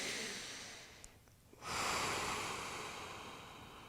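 A deep exhale and inhale during a self-myofascial release session with a Knotout mobility tool, heard close and alone: a long breath out, a short pause, then a strong rushing breath that slowly fades.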